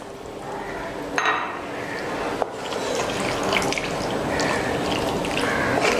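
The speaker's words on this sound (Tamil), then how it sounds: "இப்போ இதில் வந்து ஒரு கப் அளவு தண்ணி ஊற்றலாம்" Water running and splashing into a pan of chicken gizzards being cooked, a steady continuous pour with a couple of brief clatters early on, close and fairly loud.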